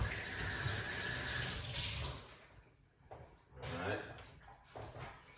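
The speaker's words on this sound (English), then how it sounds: "So we're putting some water into the blender." Water pours into a blender in a kitchen, a rushing splash for about two seconds followed by a few shorter sloshing bursts, recorded fairly quietly.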